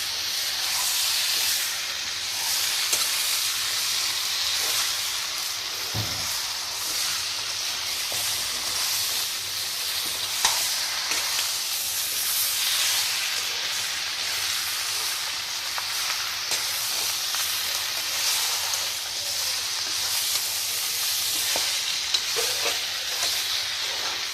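Duck meat and potato pieces fry and get stirred in a pan, a steady broad sizzle with soft scraping strokes running continuously for the whole stretch, no talking.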